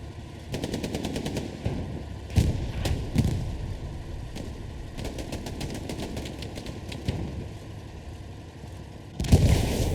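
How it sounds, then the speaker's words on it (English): A tank in the game Hell Let Loose shelling a tower, with heavy bursts of rapid automatic gunfire and a few booming impacts over a constant engine drone, loud and sustained. "Look, it is shelling the tower right now."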